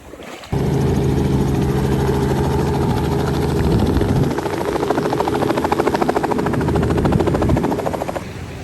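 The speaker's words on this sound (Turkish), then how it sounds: "Helikopterle gruplar getiriyorlar." Helicopter flying near Whitehaven Beach in Australia, a loud steady rotor thrum with rhythmic blade chop that holds for several seconds, close and unbroken, with no voices.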